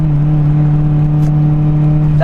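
Mitsubishi Evo IX pulling in first gear from inside the cabin, a loud steady engine drone with a strong low hum holding throughout the short stretch, no words spoken.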